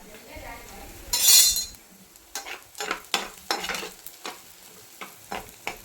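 Goat brain frying in a hot pan and being stirred, with a loud sizzle burst early on, then a series of scraping, clinking strokes of a utensil against the pan at close range.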